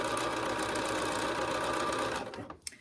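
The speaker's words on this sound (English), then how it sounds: "Then you sew one pass, 1/8 of an inch below that hemline. Trim it, roll it over, and stitch it down." A sewing machine stitches the hem of a formal dress, running in a fast, steady buzzing rhythm before slowing and stopping just before the end.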